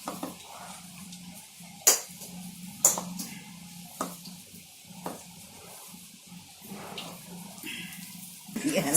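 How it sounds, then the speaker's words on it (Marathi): Onion bhaji batter is mixed by hand in a bowl with water added little by little, giving soft wet squishes and slaps broken by sharper clinks of the bowl, close and irregular, with no talk. "थोडं थोडं पाणी टाकून जसं पीठ मळतं तसं चांगलं मिक्स करून घ्यायचं."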